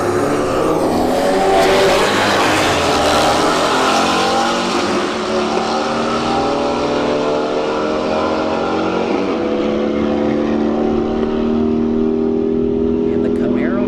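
Camaro SS and Golf R engines roar through a drag race at a street-heat event at Bradenton Motorsports Park, loud sustained revving with rising harmonic sweeps and a commentator talking over it.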